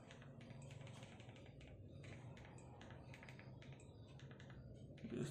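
Keys are typed to search for Cisco, with quick irregular soft clicks tapping close but faint over a low background hum and no talk.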